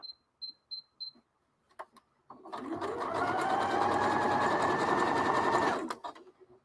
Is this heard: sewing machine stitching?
yes